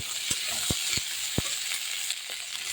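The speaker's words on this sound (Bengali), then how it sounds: "সবজিটা দিয়ে দেবো এবার আমি এই তেলে" Mixed vegetables fry in hot oil with a steady, close sizzle throughout, punctuated by a few sharp clinks and scrapes of stirring against the pan.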